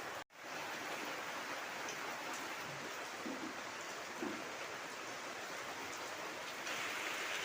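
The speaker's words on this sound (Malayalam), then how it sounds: "നല്ല മഴ പെയ്യുന്നുണ്ട്" Heavy rain falls outdoors in a dense, steady hiss that stays even from start to finish, with no talking.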